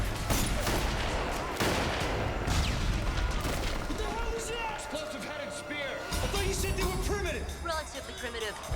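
Battle scene gunfire from a 2005 vampire sci-fi film, a dense, continuous fusillade of rapid shots and bursts filling the clip, with raised voices and shouting mixed through the din.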